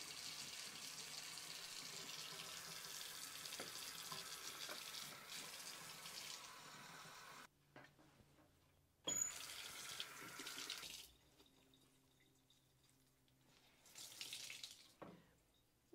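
Tap water runs steadily into a container mixed with Red Wing foam leather cleaner, a broad gushing hiss that stops abruptly, resumes briefly, then gives way to quieter handling noises.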